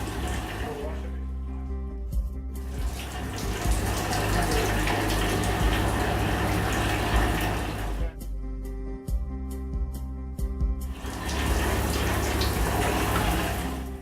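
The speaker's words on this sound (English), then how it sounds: "You shower the mask using plenty of soap." Shower water runs steadily and loudly over a face mask in a decontamination shower area, a continuous broadband rush that briefly thins and changes tone twice before resuming.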